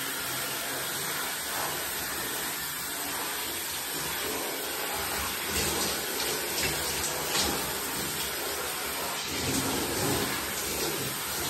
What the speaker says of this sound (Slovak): vleziete do vani, vysprchujete sa normálne vláčnou vodou.